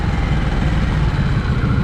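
A 2023 Harley-Davidson Nightster Special's exhaust drones steadily while riding, a continuous low rumble with wind noise and no pauses, fairly loud and close.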